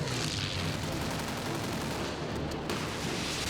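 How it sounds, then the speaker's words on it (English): Loud, dense bursts of staged gunfire and explosion effects crackle continuously on the Pearl Harbor film set, a sustained roar of rapid blasts with no pause. "I'm just gonna make up some booms for you, all right? This will be very loud."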